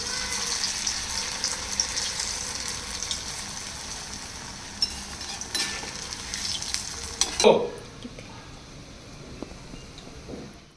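Alu vadi rolls slid one by one into hot oil on a medium-low flame, giving a steady close sizzle and crackle that drops to a softer, quieter bubbling after a brief clatter, with no talk.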